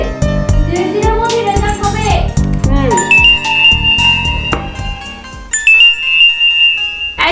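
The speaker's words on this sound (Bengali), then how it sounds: "তোর ফোন" A mobile phone rings with a bright repeating electronic melody, loud and close, following a stretch of speech.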